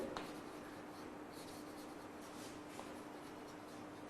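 Pen or marker writing notes during a biology lesson, a steady soft scratching and rubbing that runs continuously at close range, with no talking.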